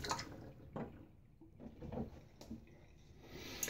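Water splashes and swishes quietly as a Gillette Fat Boy safety razor is rinsed, a few soft, close bursts against a faint background.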